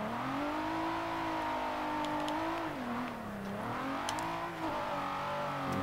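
A car's engine in Forza Motorsport 7 drones steadily at high revs while drifting, its pitch dipping and climbing again as the throttle eases and reopens, with faint clicks above the constant roar.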